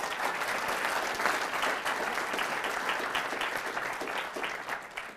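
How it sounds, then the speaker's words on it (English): Crowd applauding at a campus speaking event, sustained dense clapping from many hands at a steady level, with no break across the whole stretch. "let's have a round of applause for YAF"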